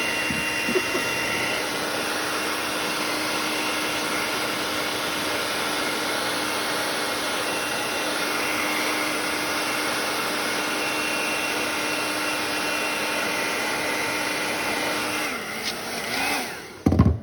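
A heat gun warms a rubber grip for a Springfield XDM pistol, its steady, loud blowing roar running continuously before cutting off with a brief clatter at the end.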